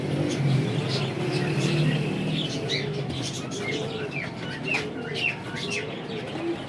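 Pigeons coo repeatedly in a loft-like setting, with low rounded calls and scattered chirps from other birds, while faint background voices and a distant car murmur underneath.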